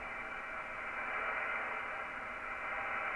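Steady receiver hiss from a Yaesu FT-101EE radio with the pre-select tuned to its peak, a loud even band of static holding constant across the whole stretch with no voices.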